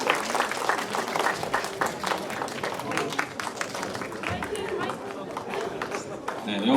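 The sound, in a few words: audience applause for students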